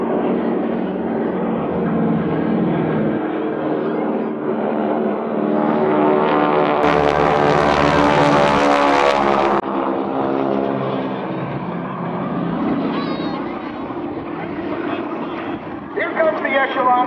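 A GEICO Skytypers propeller aircraft makes a strafing pass at the 2014 NAS Oceana airshow. A steady engine drone swells into a loud, rushing roar midway, then eases back, with an announcer talking over it throughout.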